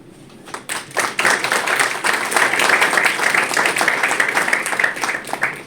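Audience applause at a university convocation ceremony in Kharghar, Navi Mumbai, a dense burst of many hands clapping that starts abruptly and holds steady and loud to the end.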